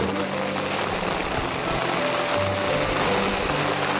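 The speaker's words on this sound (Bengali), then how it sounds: "ওনাদের এখানে আসতেই মুসলধারে বৃষ্টি শুরু হয়ে গেল" Heavy downpour on a mountain trail near Sheshnag in Kashmir, a steady close hiss of rain falling without any talk.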